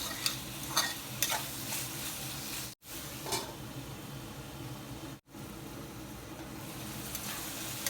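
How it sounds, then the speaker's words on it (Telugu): Tomato and drumstick curry cooks in oil in a pan, a steady close sizzle with scraping stirs early on, briefly cut off twice, quiet overall. "2-3 నిమిషాలు మూత పెట్టి ఈ ఆయిల్లో మగ్గనిద్దాము"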